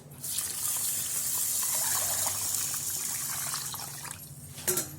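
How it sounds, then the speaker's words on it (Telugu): Steady gush of water being poured onto two glasses of basmati rice in a pot, continuous and close for about four seconds before stopping with a brief clatter. "దాంట్లో మనం ఇప్పుడు వాటర్ యాడ్ చేద్దాం."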